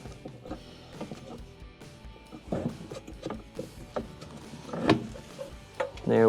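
A bolt is worked loose on the agitator of a Frigidaire washer. Faint, irregular clicks, creaks and clunks of metal and plastic come from close by, with no steady motor sound.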